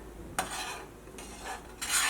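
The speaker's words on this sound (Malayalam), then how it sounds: "ഇത് നമ്മളിങ്ങനെ എപ്പോഴും ഇങ്ങനെ ഇളക്കി കൊടുക്കണം കേട്ടോ" Milk boils down in a pan over a medium flame while a spoon stirs it, giving repeated close scraping strokes over a soft bubbling hiss, with no talk.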